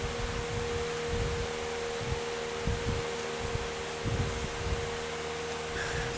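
An electric fan runs steadily in a room during flower-making, giving a continuous broadband whoosh with a faint steady hum and occasional soft rustles, with no talking.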